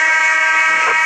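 The end-of-quarter buzzer in the NBA 2K20 Mobile basketball game sounds as a loud, sustained, harsh tone for just over a second, filling the moment with no talking over it.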